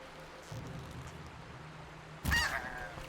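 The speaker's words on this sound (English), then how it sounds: "That goose." A goose in the Horizon Zero Dawn game gives a single short, loud honk after a quiet stretch of low ambient hum.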